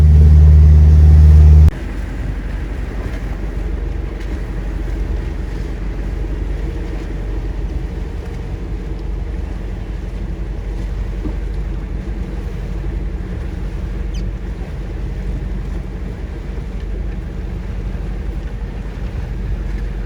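A 17-foot boat motors across open water, its engine a steady low drone mixed with constant wind and water rush, with no talking throughout.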